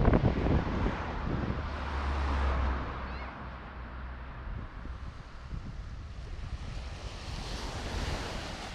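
Surf breaking on an eroding beach at Azla near Tétouan, Morocco, a steady close wash of waves with wind rumbling across the microphone, swelling louder in the opening seconds and settling into a continuous hiss.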